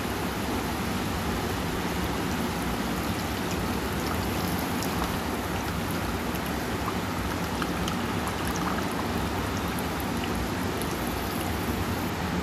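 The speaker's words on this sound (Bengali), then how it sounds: "আর আমরা এই নারকেলের যে দুধটা বানিয়ে রেখেছিলাম এটাকে দিয়ে দেবো।" Homemade coconut milk poured into fried masala for a prawn dish makes a continuous, even pouring and bubbling wash with faint crackle, unbroken for several seconds.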